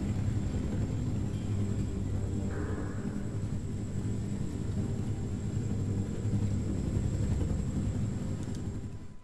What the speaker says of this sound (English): Okay, that helicopter.